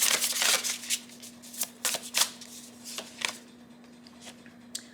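Tarot cards shuffled by hand, a run of crisp riffling bursts that thin out into a few soft taps, close and alone over a steady low hum.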